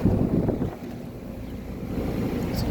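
A very quiet air conditioner unit, one of several running outdoors including a 1993 Arcoaire 1-ton and a new 2023 Goodman, gives off a low, steady broadband hum with some wind rumble and no talking.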